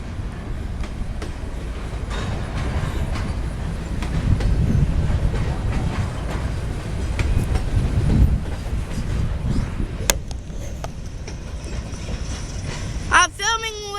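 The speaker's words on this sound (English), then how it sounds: "Trailing locomotive. He's leaving Port Lock Yard in Norfolk." A trailing locomotive pulls out of Portlock Yard in Norfolk, Virginia, with a loud, heavy rumble and clickety-clack of wheels over rail joints close by. A few sharp metallic squeals and clanks come near the end.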